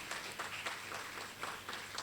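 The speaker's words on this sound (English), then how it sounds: "I think we should give them a big, big, big round of applause" Faint audience clapping at a college of education biodiversity talk and exhibition, loosely rhythmic and quiet.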